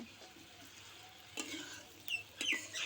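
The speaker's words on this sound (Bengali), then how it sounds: "আবারও নাড়াচাড়া করতে হবে।" A spoon stirring fried pointed gourd and potatoes in a pan, with faint scraping and sizzling and a few short, louder stirring strokes near the end, heard close and alone.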